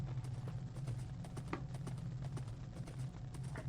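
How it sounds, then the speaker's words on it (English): Horse hooves clip-clop faintly and steadily in the blocky survival game Minecraft, a quiet run of soft, evenly spaced taps over a low background hum with no voices. "Don't go wandering off, horse."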